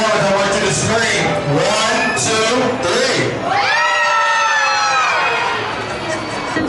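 A crowd at the Carowinds amusement park, beside the carousel, screams and cheers loudly and steadily, with high children's shrieks rising and falling throughout.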